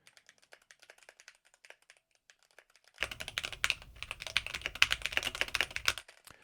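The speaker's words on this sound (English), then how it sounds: "you can see that I still get some keyboard noise in the background" Light, sparse keystrokes on a computer keyboard, then a sudden burst of fast, dense typing with a low background rumble for about three seconds, picked up through a Beyerdynamic MMX 200 wireless headset microphone.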